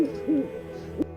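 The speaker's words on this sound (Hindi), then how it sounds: "उल्लू।" An owl hoots three times, each call low and rounded with steady gaps between, at moderate volume against a faint background.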